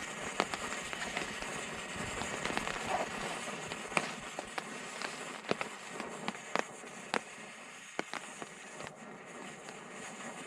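Diesel burning off the wick of a wick stove at a forest wild camp, a steady soft roaring hiss broken by scattered sharp crackles and pops, close up with no talking.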